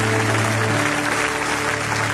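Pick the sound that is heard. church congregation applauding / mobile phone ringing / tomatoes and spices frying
church congregation applauding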